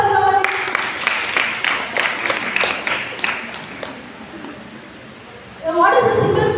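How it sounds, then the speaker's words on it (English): Students in a classroom applaud a classmate, a burst of scattered hand claps lasting several seconds and fading out, followed by voices. "everyone clap for Divavati"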